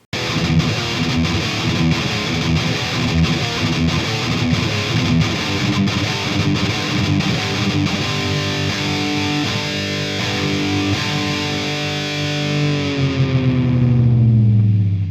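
Heavily distorted electric guitar plays a chugging riff variation, loud and dense with rhythmic palm-muted attacks, ending on a sustained ringing chord that fades.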